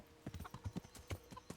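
Horse hooves clip-clop in Kingdom Come: Deliverance, a quick irregular run of sharp, close hoof strikes at a trotting pace.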